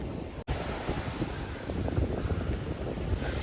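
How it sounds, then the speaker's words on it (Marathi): Sea waves surge and wash against a stone embankment at high tide in a continuous low roar, with gusts of wind buffeting the microphone. "आता लाटा आहेत ना त्या या दगडांच्या पिचिंगला टच होतात"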